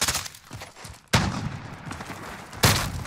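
Shotgun blasts in a first-person shooter 1v1 match: two loud, sharp booms about a second and a half apart, each with a decaying tail, following a softer patter of earlier shots.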